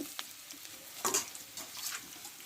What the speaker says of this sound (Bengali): দেখো পেঁয়াজটা আমি একটু ভালো করে ভেজে নিচ্ছি লাল লাল করে